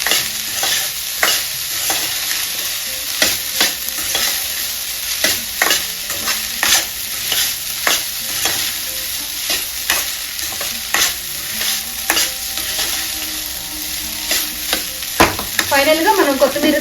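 Coriander paste being stirred into rice in a pan, a spoon scraping in repeated close strokes over a steady sizzle of frying, with a brief clatter near the end.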